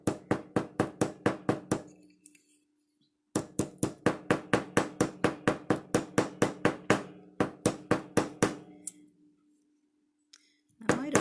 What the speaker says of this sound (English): I'm kind of tapping it around in a circular motion so I get the metal spreads out evenly.